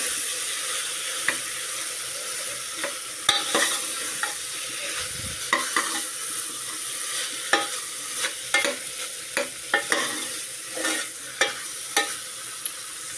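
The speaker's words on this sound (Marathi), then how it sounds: "बटाटा आणि वांग परतल्यावर आपण त्यात घालणार आहोत वाटलेलं वाटण कांदा खोबऱ्याचं, तेही छान परतून घ्या" Potato, brinjal and ground onion-coconut paste sautéed in a pan for a kaju bean curry, with a steady sizzle broken by repeated sharp scrapes and clinks of a spoon stirring against the metal, close and clear with no talk.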